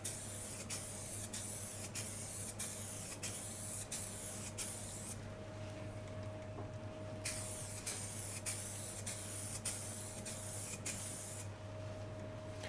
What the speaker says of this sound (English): let's give this a couple of coats of sealer.